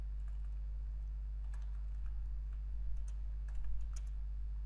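Light typing on a computer keyboard, sparse faint key taps in small clusters over a strong steady low electrical hum.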